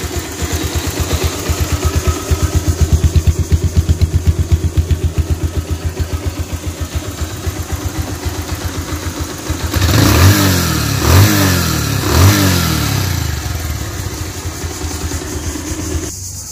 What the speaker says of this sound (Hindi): बंधुरा देखो हमें गाड़ी स्टार्ट कर